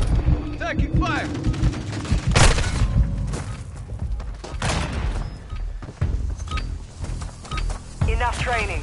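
Combat gunfire in a war video game, scattered sharp shots and thuds mixed with battlefield clatter, moderately loud, under fast radio-style voices calling out and whistling tones throughout.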